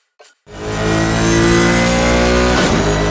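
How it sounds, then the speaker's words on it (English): In the racing video game Shift 2 Unleashed, a brief blip, then a powerful muscle car engine roars to life and holds a loud, sustained rev with a slight dip near the end. "then you'll get to hear those modern engines scream."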